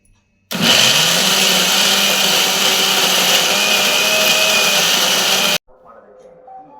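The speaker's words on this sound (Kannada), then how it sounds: "ಈಗ ಹಸಿಮೆಣಸಿನ್ಕಾಯಿ, ಈರುಳ್ಳಿ, ಪುದೀನ, ಕೊತ್ತಂಬರಿ ಸೊಪ್ಪು, ಬೆಳ್ಳುಳ್ಳಿ ಇದೆಲ್ಲ ಹಾಕಿರೋ ಮಸಾಲೆನ ರುಬ್ಕೊಳ್ಳೋಣ" A kitchen mixer grinder whirs loudly, grinding green chilli, onion, mint, coriander and garlic into a masala for biryani, starting abruptly and running at a steady high-pitched roar for about five seconds before stopping.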